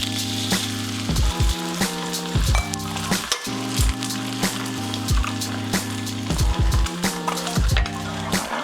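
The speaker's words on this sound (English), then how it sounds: "Then we're gonna crack our eggs in." Eggs sizzle and fry in butter in a pan of garlic fried rice, a steady loud crackling hiss with occasional metallic clinks of a utensil against the pan, overlaid by a repeating tonal musical background.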